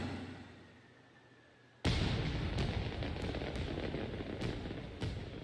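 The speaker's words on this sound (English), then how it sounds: "it's fireworks instead of a pistol" Fireworks in the video game Ni No Kuni 2 burst abruptly into a loud sustained crackling roar, with several sharper pops and bangs punctuating the dense rumble.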